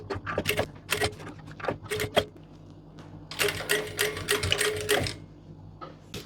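A sewing machine stitches a zipper with a separate fly facing into a pair of women's trousers, running in short close bursts of rapid mechanical clatter with brief pauses between runs and no talking.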